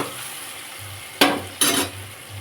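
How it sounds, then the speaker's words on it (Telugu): Tomatoes cook in a pan for a prawn curry, with a low steady sizzle and two clear scraping stirs of a spoon against the pan, close by, with no talking. "ఈ టమాటా కూడా బాగా మగ్గాలి"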